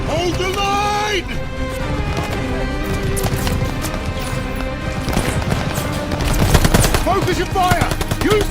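Rapid machine gun fire rattles continuously in a video game battle, dense and loud, with voices shouting over the shooting.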